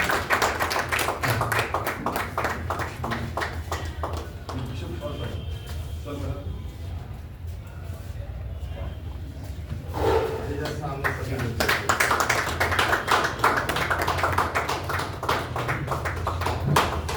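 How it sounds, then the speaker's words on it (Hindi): An audience at a Hindi award ceremony claps in dense, rhythmic bursts. The clapping eases off in the middle, then swells again, with voices talking throughout. "बहुत अच्छी तालियां बजा दीजिए आप लोग।"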